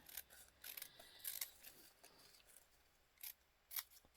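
Scissors snipping through paper for a photography-themed journal page, a quiet run of short crisp cuts in irregular bursts with a few louder snips near the end, no talking.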